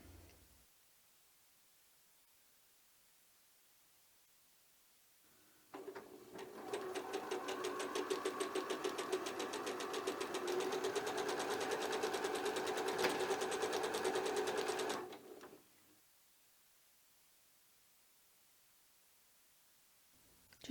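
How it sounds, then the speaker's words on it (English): Sewing machine stitching quilted patchwork pieces together for a notebook cover, a steady fast whirring rattle that starts abruptly after quiet, runs evenly for about ten seconds, then stops. "And I'm going to start sewing."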